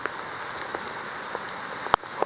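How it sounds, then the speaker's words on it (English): Heavy rain pelting down steadily during an outdoor metal-detecting dig, a dense hiss of drops with a few sharper taps and one louder knock near the end. "It is raining crazy."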